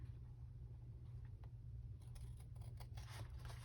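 Scissors snip through paper while a journal folio is trimmed, a series of short, close, quiet cuts starting partway through over a low steady hum.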